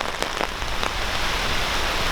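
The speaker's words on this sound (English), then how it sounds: "it's raining cats and dogs" Heavy rain pours down in an outdoor cemetery, a dense, loud, continuous hiss with a few distinct drops near the start.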